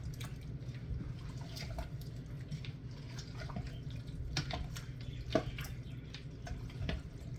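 Liquid seasonings such as bouillon and liquid smoke pour into a pot of Brunswick stew, a soft, faint trickle with scattered drips and small splashes, close by and without talk.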